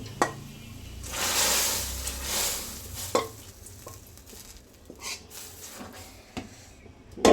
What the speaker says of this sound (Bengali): এখন ডালটা এই যে বাগার দিয়ে দেবো